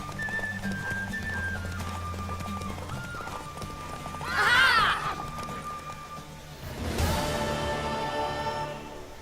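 A horse in the game Witcher 3 gallops with a steady clip-clop of hooves, then lets out a loud whinny and neighs again a moment later, with faint ambient game sound behind it.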